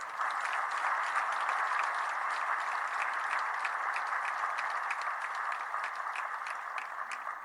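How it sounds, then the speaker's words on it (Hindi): Crowd clapping at a BJP victory event in Panchkula after municipal elections; dense, sustained applause from many hands, loud and even throughout with no talk over it. "इनके लिए इतनी जोरदार बजाओ ताली जो दिल्ली तक सुन जाए।"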